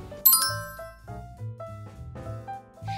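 A bright bell-like notification chime rings out, a sharp ding followed by lighter tinkling tones and a soft electronic melody, clear and close with no talk.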